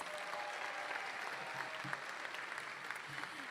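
Steady applause from a ceremony audience at a collegiate honor society induction, continuous and moderately distant throughout, with no voices over it.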